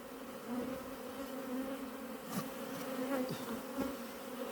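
A honeybee colony at an open hive in late August, with the hive's feeder full of comb and honey, gives off a steady, close, even buzz, with a few louder bees passing near.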